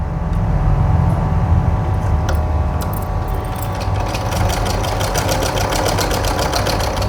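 A domestic sewing machine stitches piping onto cloth, running at an unhurried pace with a steady mechanical whir and rapid rhythmic needle ticking, close and fairly loud.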